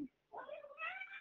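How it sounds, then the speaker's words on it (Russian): A hungry cat yowls close by after a brief pause, one long drawn-out meow that rises and wavers. "Кот с голоду, вон пухнет и орет."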